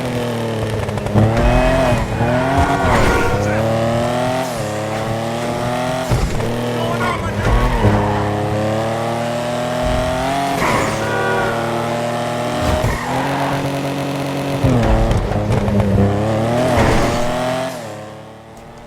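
Stirling GT sports car in GTA Online revving and roaring through gear changes, engine pitch rising and falling repeatedly with tire squeal and skids, loud and close throughout before fading at the end.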